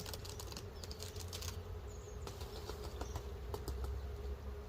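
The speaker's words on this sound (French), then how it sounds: "On a des abeilles partout." Honeybees fly all around a strong spring beehive while the colonies are being balanced. A close, steady buzz runs under sharp clicks and knocks from frames being handled, with no talking.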